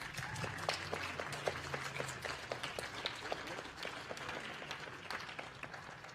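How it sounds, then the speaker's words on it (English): Audience applause at a high school symphonic winds and percussion concert, a sustained spread of many hands clapping at moderate distance, steady and fairly soft with no talk over it. "let's give everybody a round of applause for that independent work that they did"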